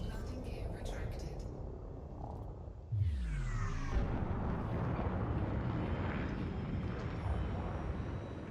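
A spaceship lifting off in a video game, with the landing gear retracting: a descending mechanical whir and clunk, then a sudden, steady, loud engine roar that holds to the end under a few spoken words.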